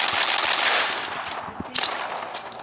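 Rapid bursts of automatic gunfire in a battle royale video game crackle loudly and close, with a sharp burst standing out midway and short pauses between volleys.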